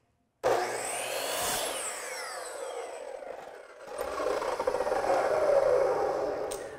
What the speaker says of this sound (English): You're going to move your saw bevel down to 45 and you're gonna cross cut it like this.